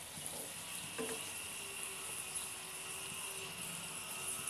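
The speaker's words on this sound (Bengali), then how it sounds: "এবার এভাবে কিছুক্ষণ ভাজা হোক" Bangladeshi nokshi flower pitha fry in hot oil, giving a soft, continuous sizzling hiss at low volume with a few faint clicks and no voices.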